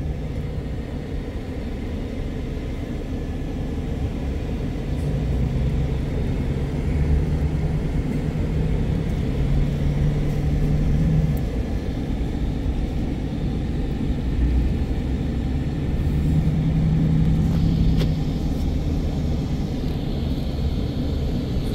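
A vehicle climbs a hill towing a trailer loaded with a 3500 lb Fairmont A-4 railroad motor car, giving a steady low engine rumble and road drone throughout at moderate level.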